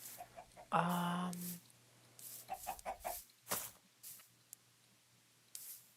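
A Minecraft chicken clucks clearly near the start, followed by scattered soft footstep-like scuffs and a brief spoken word.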